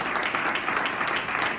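Dense, steady applause from a church congregation during a Spanish-language Bible teaching, many hands clapping together loudly and close with no break.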